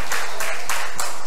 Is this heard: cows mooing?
no